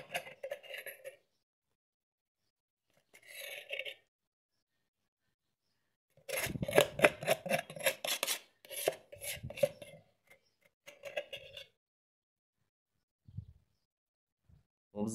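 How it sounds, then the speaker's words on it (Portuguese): A spoon scraping and spreading wet plaster in a mould, with several short bursts of dense rubbing and tapping separated by silences, close and fairly quiet. "Vou pegar aqui uma colher para nós espalhar."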